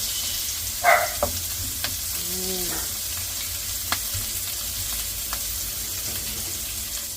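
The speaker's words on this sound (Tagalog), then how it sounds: "Gagawin natin parang tortang sausage." Sausage for a sausage omelette sizzles steadily in a frying pan, with a constant hiss, a few clinks and scrapes near the start, and a short hum-like tone in the background.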